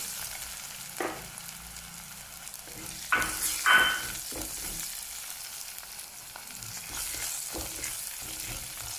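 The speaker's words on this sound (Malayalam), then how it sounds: "വെളുത്തുള്ളി മൂത്ത് ഇതൊരു ബ്രൗൺ കളറാക്കി എടുക്കാം." Garlic frying in a pan as the base of a fish curry, with a steady close sizzle broken by a few louder scraping stirs.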